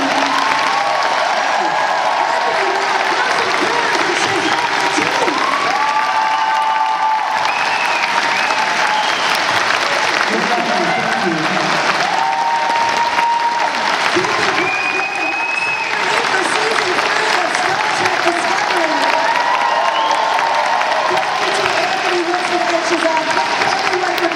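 Long, steady applause with scattered cheers from a convention crowd for the guests, loud and sustained throughout, with voices and whoops mixed in.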